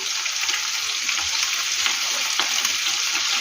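Meat frying in a pan until lightly golden, a dense, steady sizzle held close and loud for the whole stretch, with faint stirring crackles and no voices.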